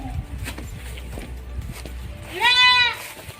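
Goats in a village livestock pen bleat once in a loud, quavering call near the end, after a stretch of shuffling footsteps and low background noise.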